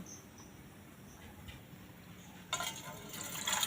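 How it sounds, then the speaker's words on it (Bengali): Water pours into a bowl, starting as a faint trickle and swelling into a close, bright, steady splashing stream that fills the last second, with no talking. "এই গামডিতে করে একটু জল নিয়ে নেব"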